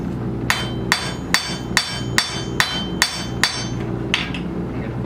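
A blacksmith in a historic village forge hammers hot metal with a round-faced hammer: nine sharp, evenly spaced ringing strikes about two to three per second, close and clear, with no talking.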